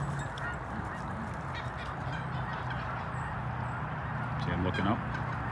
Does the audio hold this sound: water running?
no